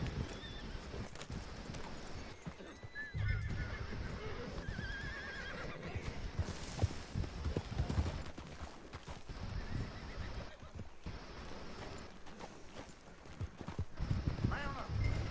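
Horses whinny and their hooves clip-clop at a steady walk, fairly faint and distant, while people talk over them throughout.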